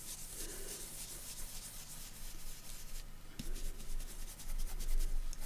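Close, soft rubbing and dabbing scrapes of ink being worked onto a paper tag for a lapbook, in irregular strokes that grow a little louder toward the end.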